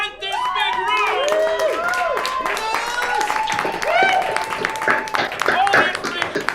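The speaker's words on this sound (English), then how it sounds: "Let's keep that applause going for Venus to Mars" Applause and clapping from an audience at an anniversary celebration in a large rented room, steady under loud talking, whoops and excited voices that sit on top of the clapping throughout.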